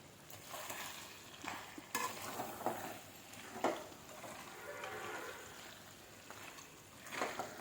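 A spoon works chicken through gongura paste in a pan, giving faint, irregular scraping strokes over a soft sizzle, with no voices.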